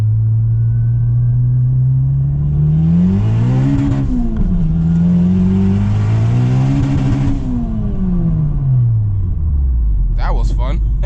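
A tuned 600hp Honda Civic Si engine revs hard in second gear and climbs in pitch, drops briefly on a shift, then surges again before easing down, loud and close; a voice briefly appears near the end.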